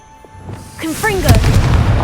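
A Confringo blasting spell from Hogwarts Legacy lands as a booming explosion after a brief shouted incantation, a rumbling burst with a sustained roar that swells and holds at close range.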